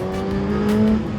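Suzuki GSX-S 1000 motorcycle from 2022 revving its engine, a loud, steady, close droning tone that swells slightly midway through the short burst, with no talking.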